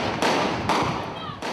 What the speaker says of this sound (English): Random gunfire forcing everyone to duck for cover.